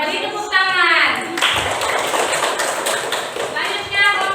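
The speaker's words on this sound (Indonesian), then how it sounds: "beri tepuk tangan" A group in a teacher coaching session claps in scattered applause after a group presentation, with voices talking over it at the start and end.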